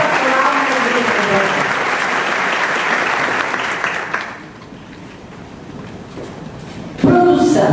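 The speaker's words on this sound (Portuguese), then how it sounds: "E para isso eu queria uma salva de palmas" A loud round of applause from a church pastoral gathering, dense clapping over a voice for about four seconds, then dying away into quiet room sound before talking returns.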